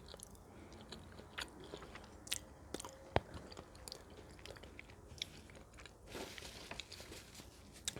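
Close, quiet chewing of grits and fried catfish, with soft wet bites, crunches and smacking sounds scattered irregularly and no talking.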